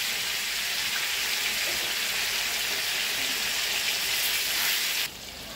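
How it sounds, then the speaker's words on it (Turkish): Steady, dense crackling and sizzling of food frying in hot oil, continuous and close, with no voices; the sizzle drops slightly near the end. "Kızartma sesi."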